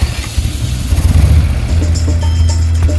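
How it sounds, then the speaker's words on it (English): A motorcycle engine with a loose pushrod jam nut fires up and settles into a loud, close, uneven running note, with mechanical clatter over a heavy low rumble. "So when you hear this motor fire up, don't tell me that all of my push rods are out of adjustment"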